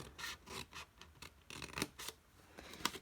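Scissors snip and rasp through paper craft pieces in a quick run of short, close cuts with soft scraping between them, quiet overall, with no talking.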